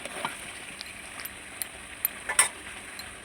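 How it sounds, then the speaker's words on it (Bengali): Pre-fried potatoes and layer chicken sizzle gently in a pan while being stirred, soft frying hiss with occasional sharper crackles and pops near the end. "দিয়ে দিলাম ভেজে রাখা আলু। ভালোভাবে নাড়তে হবে যাতে পুড়ে না যায়।"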